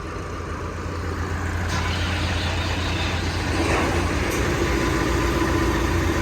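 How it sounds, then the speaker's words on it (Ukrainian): A Basak tractor engine runs at a steady idle, a constant low rumble that holds even and fairly loud throughout. "Ось заводиться у нас третій тракторець"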